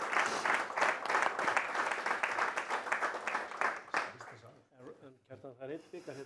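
Applause at a handball awards ceremony for the Olís and Grill66 leagues, dense clapping for about four seconds before it dies away and a voice begins speaking.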